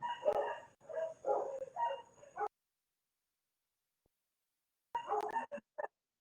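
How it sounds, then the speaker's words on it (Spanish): Dogs barking in two bursts, a cluster of sharp yips and barks lasting a couple of seconds, then silence, then another short flurry, fairly close and loud. "mis perros ladrando"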